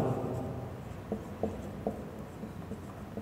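Chalk or marker strokes on a board during a chemistry lesson, a few short scratchy taps and rubs spaced unevenly over a low background, fairly close and without speech.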